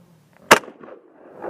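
A single sharp SKS rifle shot at a Tannerite target cracks out close and loud, then decays quickly into faint outdoor background.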